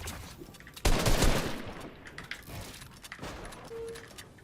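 Gunshots during a Fortnite box fight in the video game, a sudden loud burst of rapid fire followed by a few sharper, scattered shots and quieter game sounds.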